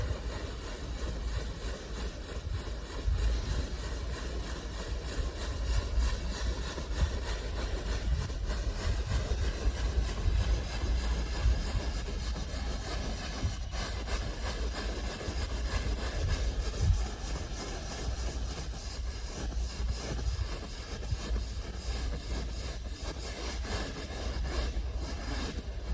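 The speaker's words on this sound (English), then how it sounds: "and then I also like to team it up with the knuckle brush." Knuckle brush scrubbing a mold-stained vinyl boat seat, a continuous dense rubbing and swishing that stays loud and close for the whole stretch, with no talk over it.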